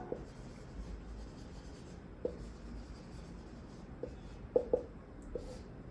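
Numbers written on a board in a maths lesson: faint, soft scratchy strokes with a few sharper taps, quiet and unaccompanied by talk.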